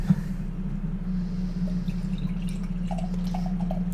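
Deschutes Black Butte XXIII 2011, a dark brown beer, is poured into a glass, giving a quiet, continuous trickle over a low hum, with a few small drips near the end.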